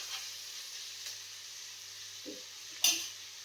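Food sizzles steadily in a little oil in an old blackened pan on a gas stove, a soft continuous hiss with a few faint clinks of utensils and one brief louder scrape near the end.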